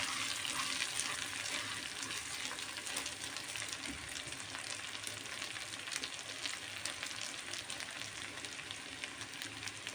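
Vermicelli and orzo frying in a pan for Turkish-style rice, a steady bright sizzle with light crackles and occasional scraping as the pasta is stirred to keep it from burning.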